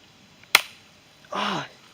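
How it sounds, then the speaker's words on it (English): A BB gun fired at grasshoppers outdoors gives one sharp, close crack, followed after a pause by a short burst of rustling noise. "practicing with his BB gun on grasshoppers"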